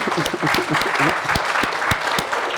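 An audience breaks into applause, a close, dense clatter of many hands clapping steadily throughout.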